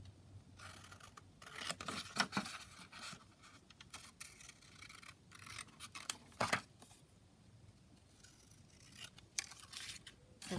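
Scissors trimming a small piece of paper for a lapbook: a series of quiet, crisp snips and rustles in irregular bursts, close and faint, with light rubbing of paper between cuts.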